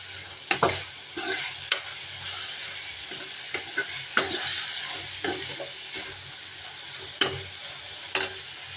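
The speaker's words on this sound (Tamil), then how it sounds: "அடிக்கு ஒரு தடவை கிளறி விட்டே இருக்கணும்" A spoon stirs vegetables cooking with masala in a sizzling pan, scraping and clinking against the metal at irregular intervals over a steady frying hiss, close and clear with no talk.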